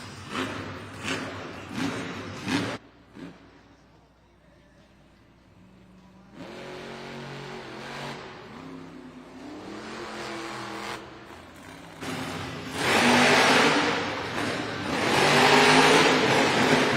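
Grave Digger monster truck at the starting line of a Monster Jam arena event, its big engine idling low before surging into loud, rising revs and a roaring launch over a crowd-filled arena.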